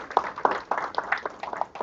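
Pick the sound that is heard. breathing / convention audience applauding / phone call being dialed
convention audience applauding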